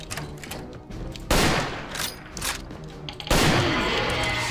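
Video game gunfire in Real Age of Horror: two loud, close bursts of rapid shots, each followed by a decaying echo, with quieter game ambience between them and no talking.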